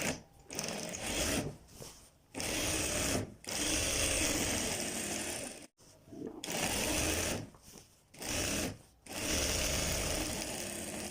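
A sewing machine stitches a child's kurta, running loud and close in several sustained bursts of a few seconds each, separated by brief pauses.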